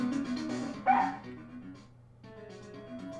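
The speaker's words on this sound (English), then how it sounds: "Cute dog" Missile the dog from the Phoenix Wright video game gives a few short, yappy barks and a whimpering yip, game-sound style and close, with a tonal chime under them.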